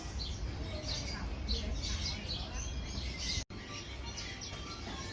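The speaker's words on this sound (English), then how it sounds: "The air is filled with bird song from birds of all shapes" Many caged pet birds chirp and sing together at a bustling Hong Kong bird market, a dense, continuous chorus of overlapping tweets over steady crowd murmur and background hum.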